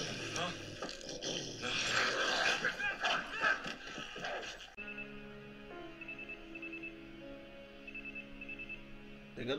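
A telephone rings in a TV drama scene, its repeated electronic ring tone sounding clearly after a stretch of louder, busy sound, with voices also present.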